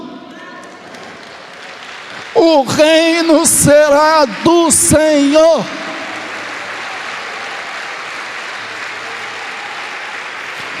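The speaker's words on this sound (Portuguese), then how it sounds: "Pode aplaudi-lo?" A church congregation breaks into steady applause during a sermon, a dense wash of clapping that follows a loud sung or called-out voice and carries on evenly to the end.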